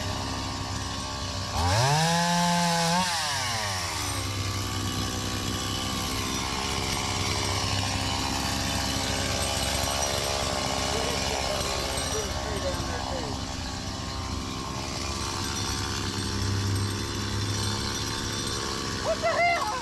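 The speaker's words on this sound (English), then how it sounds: "We ended up cutting some trees." A chainsaw cuts trees during a big cleanup of an overgrown lawn, with a loud engine rev rising and falling early on, then a steady droning run throughout.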